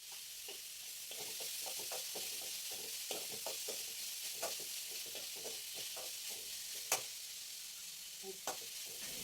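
Spice powders frying with onion and ginger in a pan, a quiet continuous hiss with frequent soft stirring taps and scrapes, no voices.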